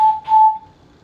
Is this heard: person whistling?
yes